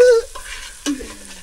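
A spoon stirring food frying in a pan outdoors in a village kitchen while samosa filling is cooked, with short scraping strokes over a soft sizzle, close and fairly loud.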